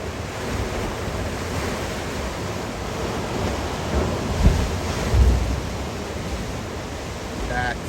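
Surf roars and rumbles continuously, with deep booming surges as waves crash on a rocky Oregon Coast shore, mixed with wind buffeting the microphone; no talking is heard.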